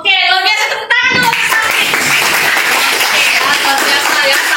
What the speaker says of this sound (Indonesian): Oke, luar biasa, tepuk tangan dulu.